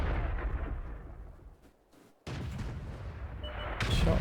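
A heavy artillery shell fired in the tank game World of Tanks, one loud booming blast that rolls on, drops into a brief lull, then another strong burst of battle noise near the end.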